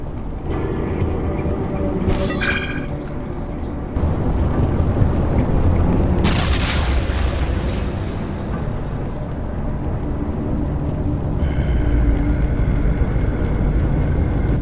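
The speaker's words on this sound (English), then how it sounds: "can use this grenade launcher to clear the path ahead" Grenade launcher blasts and gunfire from the PC game The Red Solstice, dense loud rumbling explosions layered over a steady sci-fi ambient drone, with several sharp bursts across the stretch and no talking.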